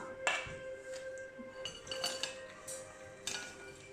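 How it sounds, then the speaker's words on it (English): Glass clinks and chinks as a granola mixture of maple syrup and coconut oil is placed into a glass bowl, several bright separate taps spread over a few seconds with no talking. "I'm going to put it in a glass bowl."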